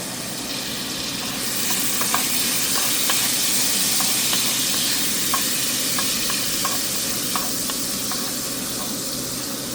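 Garlic fries in a pan for sisig, a steady close sizzle with light stirring clicks and scrapes scattered throughout, no talking.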